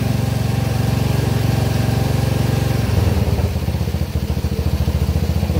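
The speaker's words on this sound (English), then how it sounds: "Started up no problem. Belt's moving like it should. We're gonna let it run for a second." A 2022 Honda Navi engine runs steadily at close range with its CVT belt spinning, giving a constant mid-pitched idle hum with rhythmic mechanical clatter that roughens slightly toward the end.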